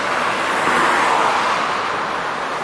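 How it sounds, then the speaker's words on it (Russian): Loud, steady roar of street traffic on Pobedy Street in Kirov, cars rushing past close by in a continuous wash of road noise. "Вот это шумная улица."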